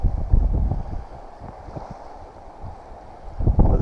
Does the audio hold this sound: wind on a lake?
yes